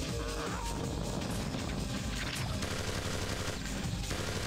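Turrets being shot and destroyed in the video game MDK 2: a dense, continuous barrage of gunfire and crashing impacts, loud and steady throughout.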